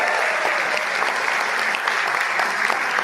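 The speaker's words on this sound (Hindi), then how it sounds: "वाह वाह, ठोको ताली।" Listeners at a Hindi comedy kavi sammelan poetry recital clap loudly and steadily, a thick, unbroken burst of audience applause lasting a few seconds.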